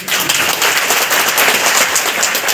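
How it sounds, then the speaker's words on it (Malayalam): Audience applause at an Onam programme, a dense, loud burst of many hands clapping that is sustained and close for the whole moment. "നല്ലൊരു കയ്യടി."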